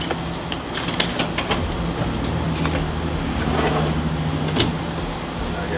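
Rumbling engine and rattling clatter of a truck driving, a steady low drone with scattered knocks and clicks, fairly close.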